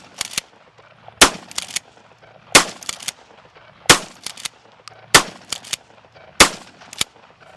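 A 12 gauge tactical shotgun with a fully extended stock fires double-aught buckshot. About six loud, sharp blasts come at a steady pace roughly a second and a quarter apart, each one ending quickly with little echo and no talking between them.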